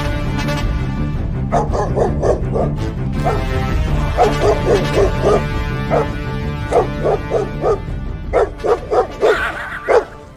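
Dogs bark in a Telugu comedy skit, short sharp barks coming in rapid clusters and irregular bursts, loud and close over a steady background hum.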